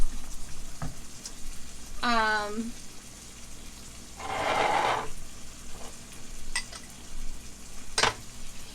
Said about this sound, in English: I'm gonna add the onion. So it can kind of cook a little bit.